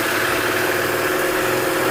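KTM RC 390 motorcycle engine idling close by, a steady unbroken mechanical hum with no talk over it.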